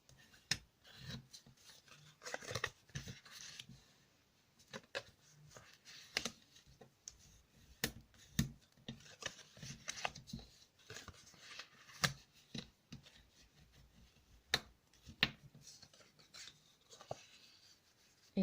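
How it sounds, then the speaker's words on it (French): Scoring fold lines on a pop-up paper card makes soft, scattered scraping and tapping sounds, faint and close, coming in irregular short strokes with quiet gaps. "je marque mes plis ici"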